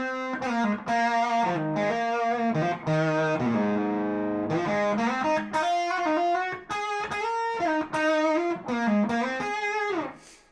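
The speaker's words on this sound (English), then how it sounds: "So a bassline sound with the tube driver." Electric guitar bassline pushed through a tube driver pedal into a 1964 Fender Vibroverb, a run of short, punchy distorted notes and slides played in a steady groove, close and loud with no talking.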